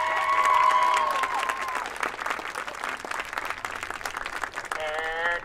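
A crowd claps for the color guard at an end-of-season marching band event, with scattered cheers and whistles rising above the steady applause near the start and end.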